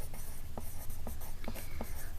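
A pen or pencil writes a name on paper at the top of a classroom worksheet, a short series of close, scratchy strokes over a steady background hum.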